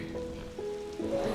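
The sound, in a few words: rain falling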